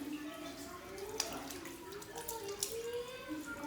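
Tap water runs faintly during handwashing, a soft steady trickle with a low murmur of voices in the room.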